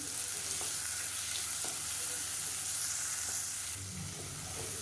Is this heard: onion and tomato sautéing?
yes